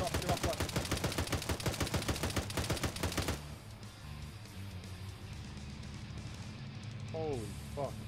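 Loud, rapid bursts of automatic gunfire from a video game hammer on for about three seconds, then break off into a quieter backdrop with a couple of short chirps.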